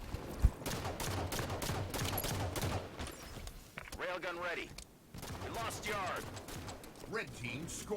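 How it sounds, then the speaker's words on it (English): Gunfire crackles in an online video game match played on a plaza stronghold map, with scattered distant shots and short bursts sitting under continuous commentary from a caster. "he's just putting shots across the map"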